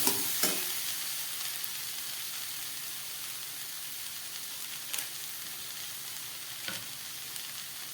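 Broccoli and other vegetables sauté with turmeric and Maggi masala in a pan, producing a quiet, continuous sizzle broken by a few sharp stirring clatters, with no voices.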